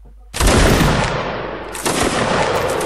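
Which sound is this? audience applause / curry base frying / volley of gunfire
volley of gunfire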